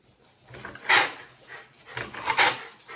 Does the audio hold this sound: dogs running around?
yes